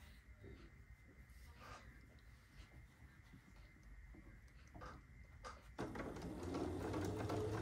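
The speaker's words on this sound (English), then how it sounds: "Start out kind of slow, get your stitches started." A sewing machine stitches a strawberry-themed quilt block. It starts slow with soft, faint, irregular whirring and mechanical ticks, then speeds up into a louder, steady, continuous motor hum near the end.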